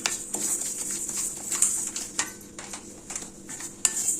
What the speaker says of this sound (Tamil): சியா சீட்ஸ் இதையும் நம்ம வறுத்துக்கலாம்.